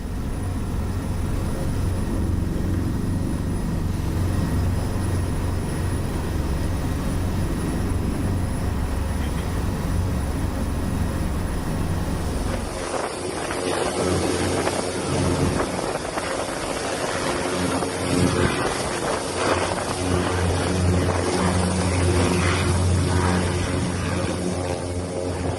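An Indonesian Air Force Caracal helicopter on a logistics drop in flooded Aceh gives a loud, steady engine and rotor roar with no break, growing rougher and more broadband about halfway through.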